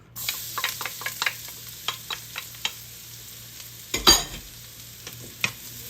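Garlic hits a little olive oil in a pan and starts frying, with a soft sizzle under a series of sharp stirring clicks and scrapes from a utensil, one louder clatter near the end.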